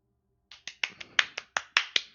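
Nine quick, sharp claps or snaps in an uneven rhythm, close and crisp, coming out of silence with no voices.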